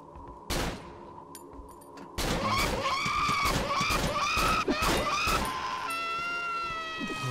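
Pistol shots in the horror game Cry of Fear: a single sharp crack, then a rapid volley of shots over a loud, shrieking creature cry and tonal game sound.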